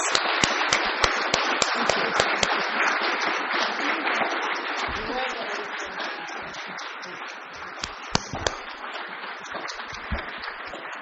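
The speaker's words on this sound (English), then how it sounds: "let's give an applause to both candidates" Sustained, dense applause from an audience at the 2017 League of Women Voters candidate forum in Grand County, Utah, honoring both candidates. Many hands clap continuously and evenly for the whole stretch, fairly loud and alone, with a few louder claps near the end.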